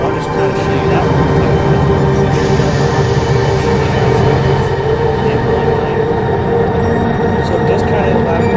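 A train in the video game Rolling Line rumbles along steadily with a dense, continuous low mechanical drone and faint voices mixed in underneath.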